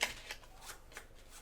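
Cards from a tabletop board game deck shuffled by hand, brief quiet riffling swishes repeating in a quick rhythm, close to the listener with no talk.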